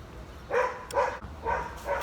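A dog barks four times in quick succession, fairly close, sharp yelps over a quiet background.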